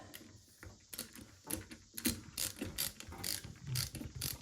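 Screws being driven while installing a ceiling fan, a close ratcheting clicking in repeated short bursts with a mechanical rattle, fairly quiet and without talk.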